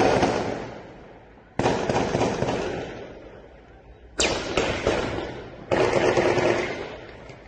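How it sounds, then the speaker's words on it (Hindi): Indiscriminate gunfire plays from a news video: four sharp, loud blasts or volleys, each followed by a long, rumbling decay. No voices are heard. "उस वीडियो पर नजर डालिए जहां अंधाधुंध फायरिंग जो है वो चल रही है।"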